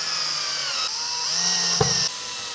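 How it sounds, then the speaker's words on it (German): Cordless screwdriver set to torque level 5 drives screws into an IKEA Besta drawer, a steady whirring motor with a brief sharp clutch click near the end, close and alone. "wie in meinem Fall mit einem Akkuschrauber, den ich für den Möbelaufbau gerne auf die Drehmomentstufe 5 stelle"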